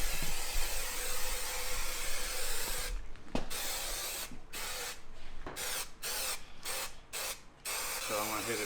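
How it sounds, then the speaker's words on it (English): Spray adhesive hisses in several bursts onto the back of a panel being fitted inside an old 1960s safe, a steady broadband spray broken by short pauses and quick repeated blasts near the end. "I'm gonna spray the back, I'm gonna spray this panel"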